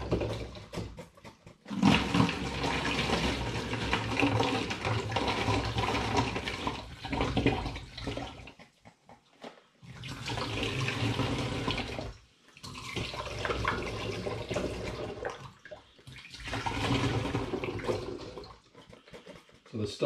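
Pure apple juice is poured from containers into fermentation vessels, several bursts of close, splashing liquid separated by short pauses, with speech between pours.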